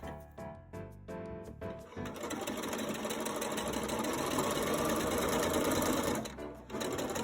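A sewing machine stitches ruffles onto a top, starting with several short stop-and-go bursts, then running in one long, steady whirring stretch before a brief pause and restart.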